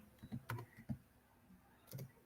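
A few soft keypresses on a computer keyboard, a Windows key and R tapped in quick succession, quiet and close with no talk.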